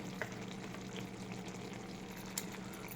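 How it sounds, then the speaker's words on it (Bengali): Yogurt being stirred into mushroom masala in a pan, with a steady soft sizzle and frying hiss and faint scraping of the stirring, close and continuous, no talking. "এবার আমি এর সাথে মিশিয়ে নিচ্ছি একটু যোগাট বা টক দই"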